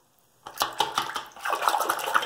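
Water poured into a tub at close range, starting abruptly after a brief silence, with gurgling splashes and a steady run of water and no talking.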